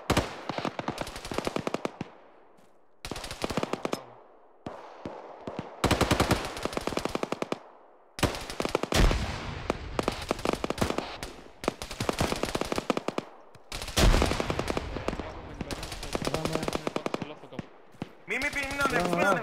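Bursts of automatic gunfire from a close-quarters hostage snatch-and-grab mission in the military video game Arma 3, loud repeated volleys separated by short quiet gaps, with voices talking between the shots.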